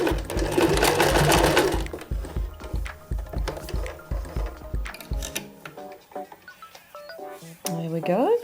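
Sewing machine back stitching at the end of a seam on a Buff scarf, a loud rapid mechanical whir followed by a series of short chattering bursts, then near-silence with a voice speaking.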